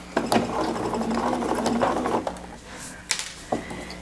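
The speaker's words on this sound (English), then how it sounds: "I'm going to seat my needle, pull out that pin, take a few stitches, back stitch" Sewing machine stitching soft, drapey crepe for a bias-cut dress, a steady close mechanical whir running for several seconds, then pausing with a few sharp clicks as stitching stops and the fabric is handled.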